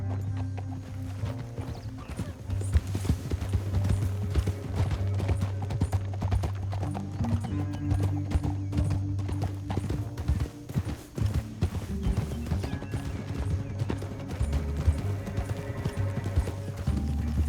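Horse hooves clatter at a steady gallop alongside a whinny in Red Dead Redemption 2, layered over a loud, continuous musical score that never lets up.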